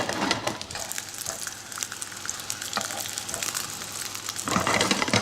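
Breaded fish fingers with breadcrumbs and dill fry steadily in a hot pan, a dense, close crackling sizzle that runs throughout and swells louder near the end.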